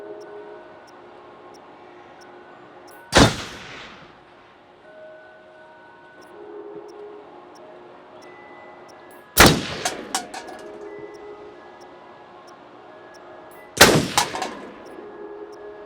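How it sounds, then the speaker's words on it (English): Gunshots in the Until Dawn video game, three loud sharp blasts spaced several seconds apart, each with a short echoing tail over a quiet ambient backdrop. "Wow, nice shooting, Tex."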